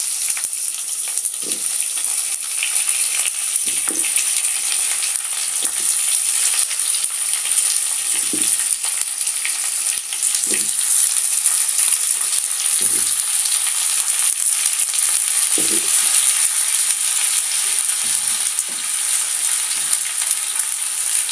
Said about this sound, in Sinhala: මම දැන් මේකට දෙල් කෑලි එක එකතු කරගන්නවා.